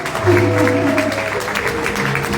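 A church evening gathering's audience applauds in praise of the Lord, with steady, sustained clapping and cheering that carries over lingering musical tones.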